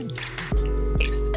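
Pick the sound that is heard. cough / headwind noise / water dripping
water dripping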